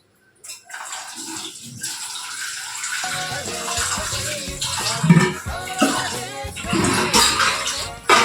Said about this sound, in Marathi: तर मंडळींना आता मी तांदूळ धुतोय.